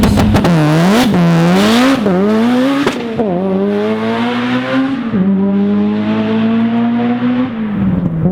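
A high-horsepower Mitsubishi Evo accelerates hard, spinning all four tires, with a loud, close engine climbing through repeated rising revs and gear changes, tire noise mixed in.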